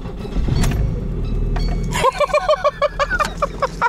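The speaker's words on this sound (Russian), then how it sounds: "Вот, насос заработал." Electric fuel pump starting to run in an abandoned VAZ 2111, a short whir heard after a burst of loud rumbling and clatter, then a series of rhythmic chirps or clicks nearby.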